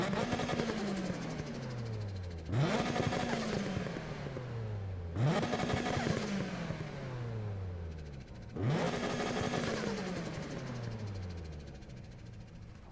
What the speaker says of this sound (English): So we're gonna go in the tunnel to the right and rev this car up.